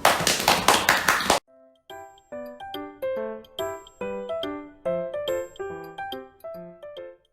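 A small audience claps briefly in a quick, close burst of hand claps lasting about a second. A bright, tinkling chime tune plays right after.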